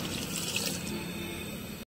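Water pours steadily from a tap into a bowl to soak spices and ingredients in a home kitchen, a short close splashing stream that cuts off abruptly, with no speech.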